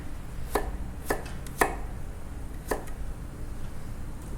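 Vegetables and garlic chopped with a knife on a board, four sharp separate chops at uneven intervals over a quiet background, no speech.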